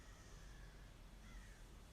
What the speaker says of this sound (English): There's definitely a crow outside crowing there